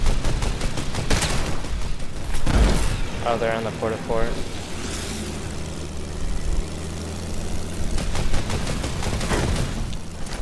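Bursts of gunfire in an aerial combat video game, with rapid rattling volleys at the start and again near the end over a steady engine drone, while players talk excitedly throughout.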